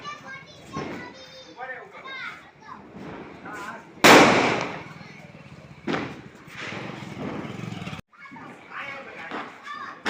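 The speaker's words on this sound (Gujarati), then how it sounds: "બોમ્બ ફોડે છે ભાઈ જોઈજો" A single loud firecracker bang bursts out sharply during Diwali amid excited children's voices and chatter, followed by lingering crackle and more talking.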